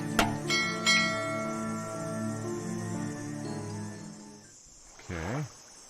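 A bell in the point-and-click game Art of Murder, struck by a falling rock, rings with a bright metallic strike that decays over several seconds, followed by a short wavering tone near the end.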